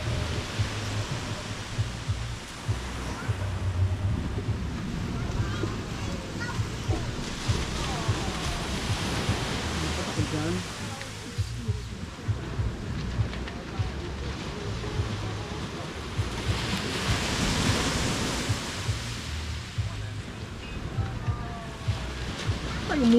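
Steady broadband wash of sea surf and wind along a beach, continuous and fairly loud, with wind buffeting the microphone and faint voices in the background.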